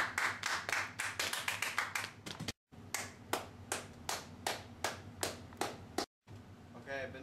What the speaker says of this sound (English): Everybody give Benozzo a round of applause.